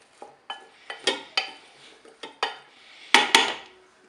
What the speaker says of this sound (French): Je vais enlever mon couvert et je vais mélanger un petit peu.